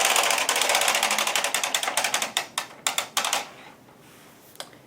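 An Ultimate Sweater Machine knits rows of yarn, its carriage making fast rhythmic mechanical clacking passes that slow and thin out into separate clicks before stopping, close and clear with no talking.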